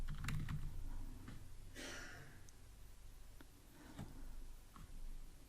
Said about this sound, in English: Another print line, we type numbers